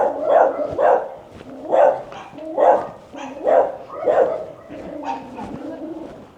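Guard dogs bark loudly and repeatedly nearby, about eight sharp woofs in an uneven rhythm, with a person's voice faint beneath.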